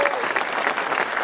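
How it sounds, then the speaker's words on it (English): Audience applause at a White House event with small business owners, a steady dense burst of clapping filling the short moment at close, even loudness. "Give them both a big round of applause."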